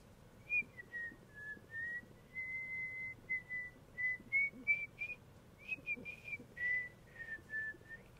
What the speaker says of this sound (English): I really stink at whistling.